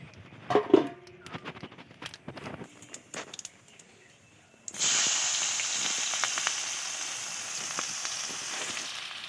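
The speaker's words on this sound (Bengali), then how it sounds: "একটু গোটা গরম মশলা দিয়ে দিলাম, দুটো সাদা জিরে দিয়ে দিলাম, দিয়ে এটা ফোড়ন দিলাম, যেটা একটু হালকা ভেজে নেবো" Whole garam masala and cumin seeds frying in hot oil give a sudden loud, steady sizzling hiss that lasts to the end, after a few quiet clinks and taps of a pan.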